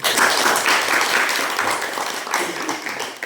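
A classroom of students applauds together, a loud, continuous burst of clapping that holds steady for several seconds.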